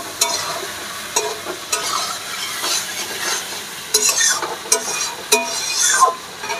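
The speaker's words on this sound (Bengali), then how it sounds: "মশলাটা ভালো করে কষিয়ে নিই।" Spice paste for hilsa curry being sautéed in a pan, with repeated spatula scrapes and stirs over a soft background sizzle, close and moderately loud, no talking.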